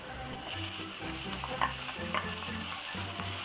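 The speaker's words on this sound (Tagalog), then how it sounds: "pwede na nating igisa or isaute yung garlic and onions" Garlic and onions sauté in a pan with a soft, steady sizzle while a utensil stirs, scraping and tapping now and then against the cookware, heard close and fairly quiet.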